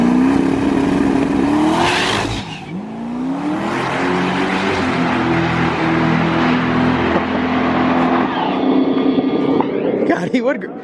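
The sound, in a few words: drag car engine revving, launching off the trans brake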